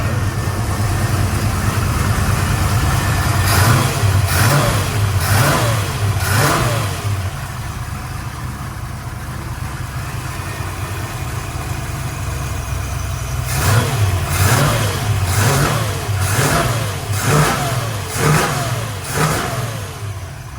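Car engine fitted with a new Flowmaster exhaust, idling with a steady low rumble and then blipped through two loud sets of quick throttle revs, each climbing and falling in pitch, with no talking.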